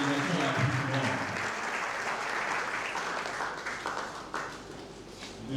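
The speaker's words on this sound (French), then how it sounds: "Nous pouvons encore acclamer." Audience at a conference jubilee applauding a large delegation, dense clapping that starts strong and thins gradually, with a voice speaking over the applause near the start.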